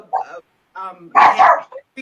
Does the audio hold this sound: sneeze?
no